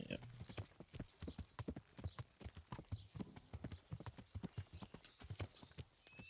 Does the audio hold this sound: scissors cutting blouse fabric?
no